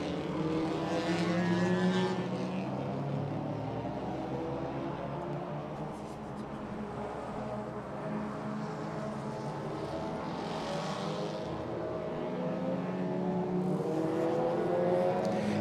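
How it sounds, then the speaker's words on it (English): A large field of race cars in the XL Cup at a drift event, engines droning and revving together from a distance in a continuous wash of motor noise, with no clear talk over it. "Huge field of cars here this weekend,"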